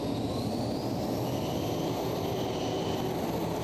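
A pulling tractor powered by TV3 engines of about 2,500 horsepower each roars steadily at a tractor pulling event in Brande, Denmark, a constant heavy engine drone heard from a distance without talk.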